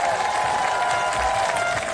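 An outdoor crowd at a Seattle rally and march applauds in a steady, continuous wash of clapping, with a background tone running underneath.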